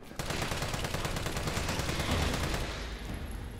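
Rapid automatic gunfire in the Resident Evil 3 Remake, a loud dense burst of shots firing continuously for several seconds with no speech.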